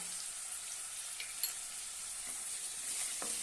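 Okra and potato with chilli powder, salt and garam masala sautéing in a pan, a steady close sizzle with faint stirring scrapes throughout.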